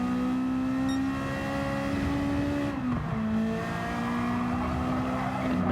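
Gran Turismo 7 race car running flat out among Lamborghini Huracán GT4s: a loud, steady engine drone that dips briefly on a downshift or lift, then climbs again, with no talking.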